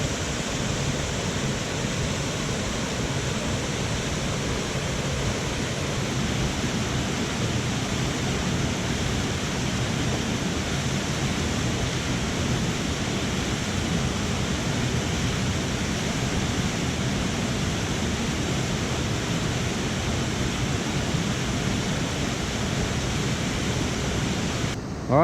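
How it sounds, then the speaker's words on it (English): A waterfall in Western North Carolina, just past a lagoon, roars as a steady, dense, unbroken rush of water close by, with no voices. "here's the waterfalls just past the lagoon"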